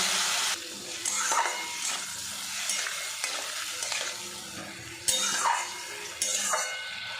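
Papaya being stirred with a masala mixture and a little water in a pan, with irregular scraping strokes of a spoon against the pan over a soft sizzle, close and moderately loud.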